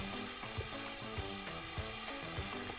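Vegetables and tomatoes sautéing together in olive oil in a pan, with a constant close sizzle broken by quick rhythmic stirring knocks and scrapes.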